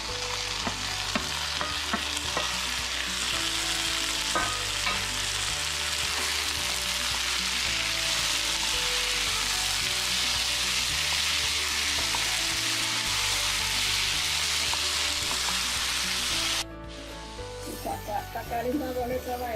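Onions and tomatoes with green chilli sautéing in a pan for a Kerala-style squid roast, a steady loud sizzle with stirring clinks throughout, ending in a brief quieter stretch of light frying.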